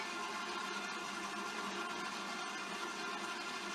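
A food processor runs continuously, chopping whole lengths of scallions for Sichuan spicy wontons, a steady whirring motor drone lasting a few seconds with no speech.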